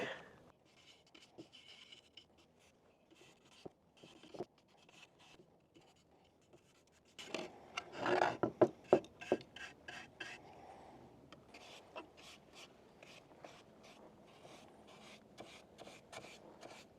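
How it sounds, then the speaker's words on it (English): Shellac brushed onto a glued and nailed wooden piece for a van camper makes soft, quiet rhythmic swishing strokes, briefly louder and faster near the middle before settling back to gentle rubbing. "I'm gonna hit this with some shellac."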